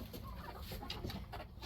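A hen clucks in a backyard coop, a steady run of soft, close clucks under faint barnyard bird sounds, with no talking.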